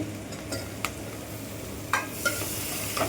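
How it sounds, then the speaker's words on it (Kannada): Fried onions and salt-boiled drumsticks being stirred in a hot pan, a quiet steady sizzle broken by a few light scraping and clinking strokes of the spoon. "ಉಪ್ಪು ಹಾಕಿ ಬೇಯಿಸ್ಕೊಂಡಿರೋ ನುಗ್ಗೆಕಾಯಿ ಹಾಕಬೇಕು"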